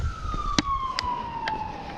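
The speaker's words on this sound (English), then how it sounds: "I hear the ambulances already." Distant ambulance siren wailing faintly over a residential yard, a thin falling tone with a few sharp knocks and clicks close by, no talking.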